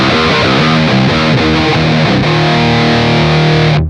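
Overdriven electric guitar with fuzzy, driven tone in a modern metalcore sound, dialled in on the BIAS FX 2 amp-modelling plugin, playing loud sustained chords and riffs continuously for about four seconds before cutting off.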